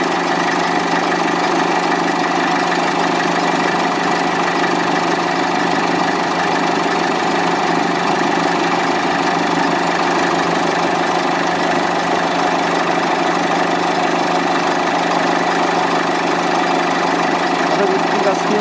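A Mercedes W211 E-Class idles with the air conditioning at maximum, a loud, steady engine hum and blower drone holding evenly throughout.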